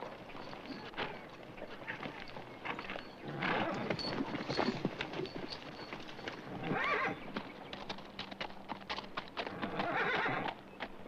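Hooves clop irregularly nearby while a horse gives a few whinnies, the sounds rising and falling in loudness.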